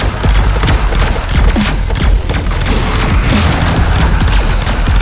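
Rapid, dense gunfire from a split-shot special weapon in the game Wildcat Gun Machine, with loud overlapping bursts and booms running continuously throughout.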